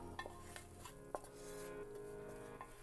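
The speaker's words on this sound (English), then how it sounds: "So now I'm gonna transfer all of this feta into this soup. We wanna scrape everything." Baked feta and olive oil scraped from a baking dish into soup with a utensil, quiet clinks and scrapes against the dish, faint and close, no talking.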